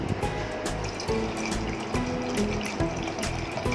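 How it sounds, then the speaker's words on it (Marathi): Water poured into a pot holding whole spices — bay leaf, mace, cinnamon, cardamom and cloves — for Amritsari pindi chole, a steady close splashing fill with clattering pot sounds, no talk. "आता हे पाणी घालून"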